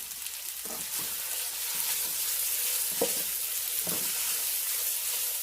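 Beef browns in a pan on high heat, giving a steady broadband sizzle and frying hiss with a few soft stirring knocks, close and continuous, with no talking.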